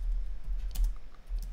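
Typing on a computer keyboard while entering a pip install command, a few soft, close key taps over a low steady hum with no talking.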